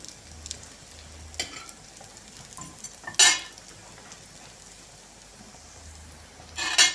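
Quiet sizzling of white loaf slices frying in oil until golden, broken by a few sharp clinks and scrapes of a utensil against the pan.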